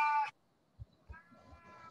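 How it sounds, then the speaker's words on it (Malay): A hungry house cat meows once, loud and close, then goes quiet while faint thumps and soft background sounds continue indoors. "Tapi buat kucing ni bising."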